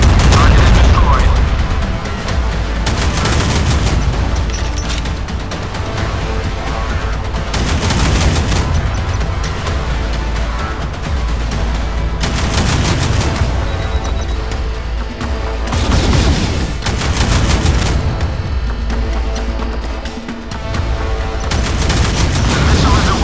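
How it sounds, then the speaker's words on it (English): Missile launches and heavy explosions in a naval warship video game, loud and continuous with repeated booming blasts and rapid gunfire-like bursts, with game voice announcements heard under the din. "The missile is away. Target is destroyed."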